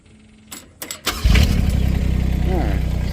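An R319 engine with non-working hydraulics cranks with a few sharp clicks, then catches and settles into a loud, rumbling, pulsing idle close by.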